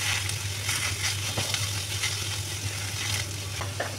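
Bottle gourd frying in ghee with cardamom in a pan, a steady soft sizzle with faint crackles and light stirring, close and continuous, with a low hum beneath.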